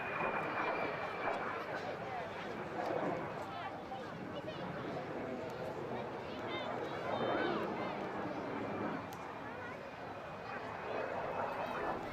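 A former military aircraft flies an airshow display at the Wales Airshow, its engine a steady distant roar rising and falling beneath continuous commentary and faint crowd noise.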